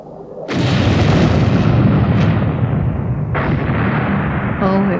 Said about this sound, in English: it was a terrific explosion. A terrific one. And it sounded as if it was right near too.